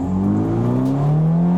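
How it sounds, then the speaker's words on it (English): Ferrari Portofino M with the roof down, its engine droning steadily and rising gently in pitch as it revs, loud and close with a constant hum underneath. "And now with the roof down, you can hear the engine even more."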